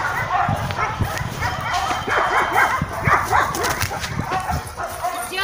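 Dogs kept in stuffy, smelly wagons bark and yip over and over at close range, a busy overlapping chorus with some whimpering, while people talk underneath.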